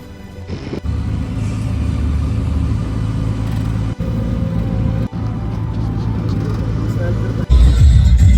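An Ola auto rickshaw rides through Varanasi near the Kashi Vishwanath temple area, with a steady, loud engine and road rumble throughout and background voices and street babble mixed in.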